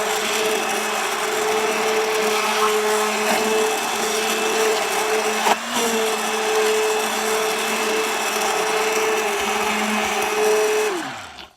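Electric mixer whirring steadily as it blends a batch of homemade face cream after essential oils and preservative are added, a loud continuous motor hum with one brief hitch midway before it winds down at the end.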